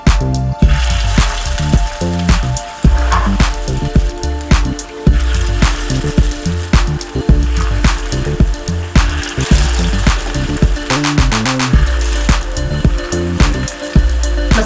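Lentil and mixed-vegetable kebabs fry in hot oil in a frying pan, giving a loud, steady crackling sizzle with dense pops and spatter throughout, close up and without speech.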